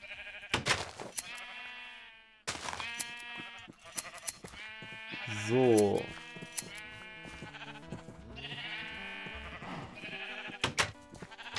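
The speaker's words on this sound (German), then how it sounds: "Da hinten ist noch ein weißes Schaf." Sheep bleat repeatedly in the Minecraft video game, their wavering cries rising over busy game sounds and clicks, with one brief spoken word.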